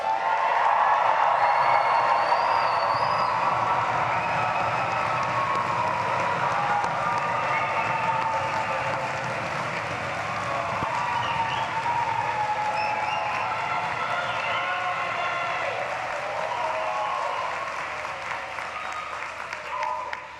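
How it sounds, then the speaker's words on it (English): A graduation crowd in Gentile Arena cheers, claps and shouts together in a steady, dense roar that holds for about twenty seconds before tailing off slightly. "I sense this is a crowd that likes to make some noise."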